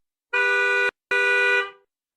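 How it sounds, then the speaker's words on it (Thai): A car horn honks twice, a short blast then a slightly longer one that fades out, loud and close with nothing else around it. "จึงบีบแตรรถและจอดเทียบ"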